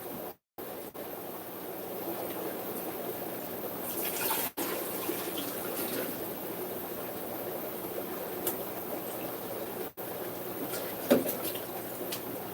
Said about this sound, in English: So all I'm going to do is add some RO water.